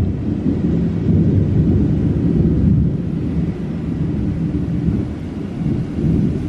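Heavy low rumbling of thunder in a storm, a continuous deep roll with rain-like noise and slight swells, loud and close with no voices.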